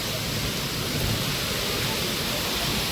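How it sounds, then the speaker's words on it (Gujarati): Heavy rain pours steadily over a farm field during monsoon weather, a dense, continuous roaring hiss that stays loud and even throughout with no distinct thunder clap standing out. "ફૂલ અવાજ વીજળી અને હરુડે બધું ભેગું છે એટલે ફૂલ વરસાદ શરૂ છે"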